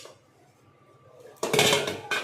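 Pots and cooking utensils from a morning's cooking, including an egg-boiling pot, clatter loudly as they are gathered, a burst of metallic clanking after a quiet stretch, then a second clash near the end.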